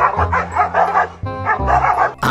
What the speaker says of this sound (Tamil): ஒரு எலும்பு துண்டுக்கு இந்த ரெண்டு நாய் சண்டை போட்டுட்டு இருக்கும்போது